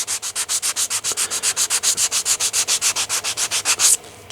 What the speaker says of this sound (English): We're going to take some sandpaper.